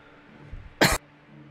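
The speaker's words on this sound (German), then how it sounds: "irgendwann abends kommt immer dieser Scheißreiz zu husten" A single sharp cough bursts out loud and close after a faint rustle, with no talking, during a late-evening coughing fit.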